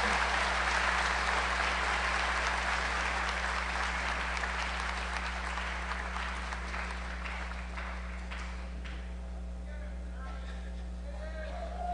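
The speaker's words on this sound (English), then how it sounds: "Would you please give a round of applause to the Culinary Arts Class of 2018." Audience applause for a culinary arts graduating class at a 2018 senior recognition ceremony, sustained clapping that thins out over twelve seconds over a steady electrical hum.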